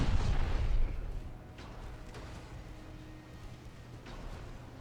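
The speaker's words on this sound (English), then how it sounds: "It's basically constantly being peppered by 3-inch shells." 3-inch naval guns firing in the naval battle game Ultimate Admiral Dreadnoughts, a heavy low boom at the start that fades into a rumbling background, with faint further shots under it.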